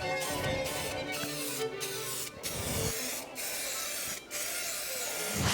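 A can of black spray paint hisses in a steady, continuous spray, broken by several brief pauses between passes, close and fairly quiet.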